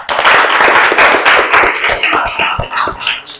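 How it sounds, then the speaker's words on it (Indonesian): Children in a classroom clap during a math lesson, a loud, close, dense burst of clapping that thins into scattered claps toward the end. "Ya, tepuk tangan."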